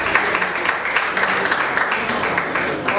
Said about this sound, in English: It's a round of applause for that.